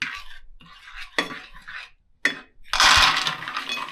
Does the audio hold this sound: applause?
no